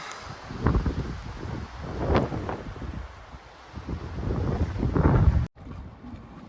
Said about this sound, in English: wind's kicking up the dust